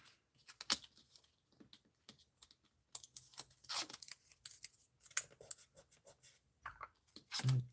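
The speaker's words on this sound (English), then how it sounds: "I'm going to tape it in place" Tape is pulled and torn in short crackly bursts, then pressed down at a few spots to hold stamping paper in place on a craft table, close and fairly quiet, with a soft thump at the end.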